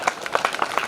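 Brief burst of audience clapping at a Hindi kavi sammelan poetry gathering, a dense, steady patter of many hands fairly close, with no voices over it.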